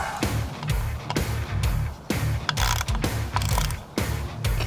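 A ratchet wrench clicks rapidly and repeatedly while bolts are tightened in a star pattern, with loud rhythmic strokes of pawl chatter and brief pauses between pulls, close up.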